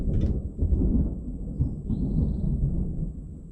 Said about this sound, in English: As y'all can hear, we're dodging rain again.